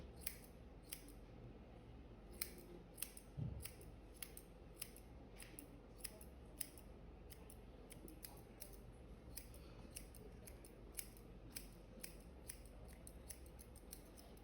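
Scissors snipping curly hair during a haircut demonstration at a curly, coily and wavy hair congress, the crisp metallic cuts coming in an irregular series of close, quiet snips with no talking.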